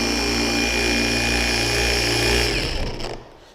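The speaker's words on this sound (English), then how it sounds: "Set the polisher. I like it between the 3rd and the 4th speed setting." Cordless car polisher set between the third and fourth speed, spreading polish during wet sanding work, runs with a steady loud whine and hum, then winds down and stops near the end as its battery dies.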